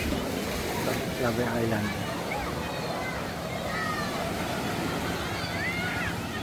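Choppy sea waves off Clave Island in the Hundred Islands, Alaminos, Pangasinan, wash steadily with some wind buffeting the microphone, heard throughout beneath a person talking.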